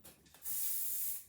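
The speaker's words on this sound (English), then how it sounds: "then spray the front" A single short burst from a hair spray can, a bright hiss lasting under a second after a faint rustle.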